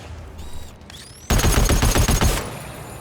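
Turret fire in the video game GTFO: after a few faint electronic tones, a loud burst of rapid automatic shots starts abruptly and lasts about a second before cutting off into lingering noise.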